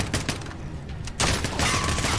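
Rapid bursts of gunfire crackle in the Call of Duty: Modern Warfare campaign, with scattered shots first and a sustained, louder volley in the second half.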